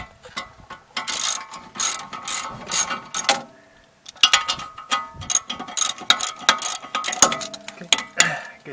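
Ratchet with an 18mm socket rapidly clicking while removing bolts from a 2011 Dodge Charger wheel hub, in two close, loud bursts of quick strokes separated by a brief pause.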